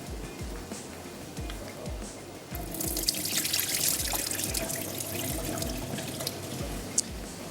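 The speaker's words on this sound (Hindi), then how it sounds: "चलिए उबलते हुए पानी में हमने ऐड कर देने हैं राइस" Rice goes into boiling water in a home kitchen while cooking biryani, a splashy rush of water and pouring starting midway over a rhythmic low thumping bubble, close and moderately loud.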